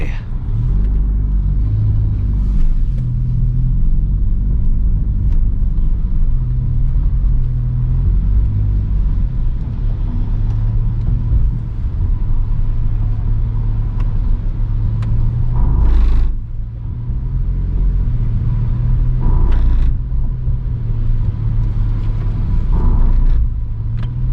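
A car on the Chonlamarkwithi road in Chonburi, Thailand, giving a loud, steady low engine rumble close by that swells briefly now and then.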